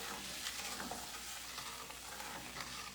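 Liquid poured into a hot pan of garlic and rosemary, giving a steady, broad sizzle and hiss that holds at an even level close up, with light stirring and scraping scratches mixed in and no talking.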